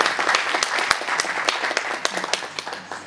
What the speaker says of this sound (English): I would ask for an extra round of applause for me.